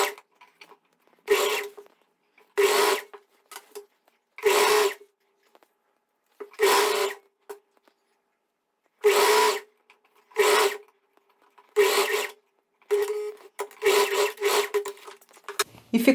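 A sewing machine stitches the front crotch seam of a pair of shorts in a series of about a dozen short, sharp whirring bursts, with quiet pauses between runs.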